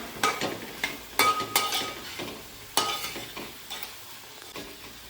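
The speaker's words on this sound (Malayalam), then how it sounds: "കറിവേപ്പില ചേർത്ത് കൊടുക്കാം. നന്നായിട്ടൊന്ന് ഇളക്കി കൊടുക്കാം." Curry leaves are stirred into a pan of Kerala-style chicken stew with carrots: a series of irregular spoon scrapes and knocks against the pan over a soft, continuous sizzle.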